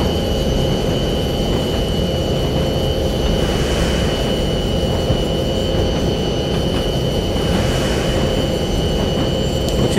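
A train running in Train Simulator 2020, a steady loud rumbling drone with constant hum and faint whine, continuous throughout with no talk.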